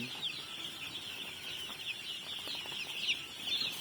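Newly hatched chicks, including an uncommon dark-coloured one, peep in a steady high chatter with soft hen clucking underneath, close and continuous with no talking.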